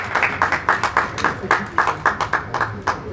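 An audience at a book release ceremony for storyteller Deep Devinder's 'Trikal-Sandhya' claps loudly in a steady, rhythmic beat of sharp hand claps that runs throughout.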